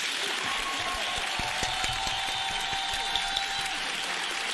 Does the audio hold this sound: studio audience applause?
yes